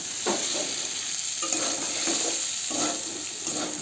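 Cumin and chilli paste fries in a pan under a constant hiss, while a utensil scrapes and stirs in several separate strokes.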